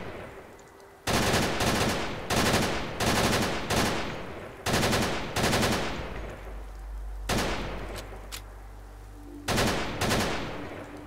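Modded rifle gunfire in Fallout 4 rings out as a series of sharp, loud shots, some in quick pairs and others spaced about a second apart, each with a short decaying tail, with no talking.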